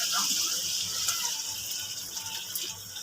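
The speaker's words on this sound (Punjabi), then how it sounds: "ਹੁਣ ਅਸੀਂ ਪਾਉਣਾ ਹੈਗਾ ਵਾ ਪਾਣੀ ਵਿੱਚ" Water pours into chana dal roasted in spices for a karela and chana dal dish, a steady splashing gush that runs the full length at close range, with a voice speaking over it.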